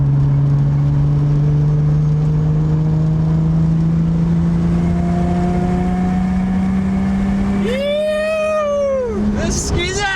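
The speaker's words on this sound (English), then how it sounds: "Engine brake, just leave it in third," Forged Nissan RB25DET engine holding steady in third gear under engine braking, a loud continuous drone with a slowly falling pitch, followed by a rising and falling whine near the end as the car changes load.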